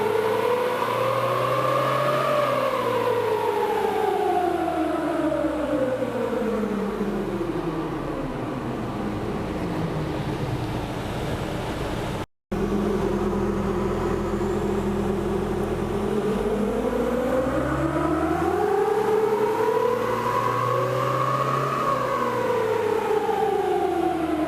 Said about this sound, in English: May need to start opening up that turbo.